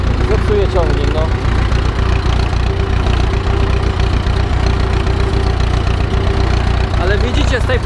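An Ursus C-360 tractor engine idles steadily and loud after ploughing the field, with a continuous low rumble and knocking pulse throughout and someone talking over it.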